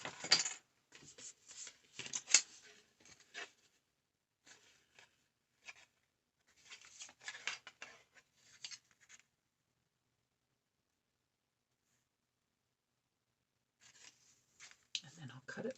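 Scissors snip and scrape through cardboard in short, close bursts separated by pauses, with a longer quiet stretch before a final flurry of cutting.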